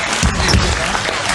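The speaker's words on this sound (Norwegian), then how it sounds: "Vi tar en applaus for det røde laget" A studio audience on a Norwegian TV game show bursts into loud, dense applause for the red team, a brief continuous roar of clapping.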